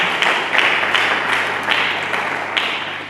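A church congregation claps in a steady, dense wash of applause that swells in repeated bursts, fairly close and continuous with no talk on top.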